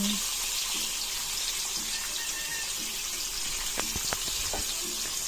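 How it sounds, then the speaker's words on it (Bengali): Potato pieces fry in hot oil with a steady, even hiss, broken near the end by a few sharp pops and crackles. "এখন এগুলো তেলে ভেজে নেব, সুন্দর করে ভেজে নিতে হবে।"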